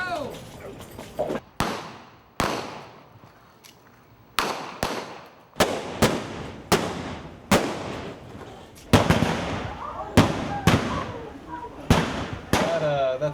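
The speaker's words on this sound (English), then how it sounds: "They're in a gunfight right now" Blank gunshots ring out in a staged Western town gunfight reenactment set in the 1880s, a dozen or so sharp, loud cracks fired irregularly, some in quick pairs, with faint voices between them.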